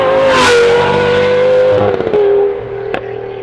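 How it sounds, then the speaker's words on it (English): A Lamborghini Gallardo Superleggera exhaust revs loudly, a deep throaty roar that rises and then falls away, ending with a quick burble. "It is truly an amazing sounding exhaust."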